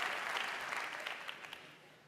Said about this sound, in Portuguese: Vamos dar um aplauso para as nossas mulheres